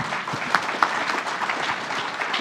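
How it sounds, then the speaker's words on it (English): Sustained applause from a conference audience after a morning session at a nicotine policy forum, a dense steady wash of many hands clapping at even loudness throughout. "let us all thank with applause our two heroes of the morning session."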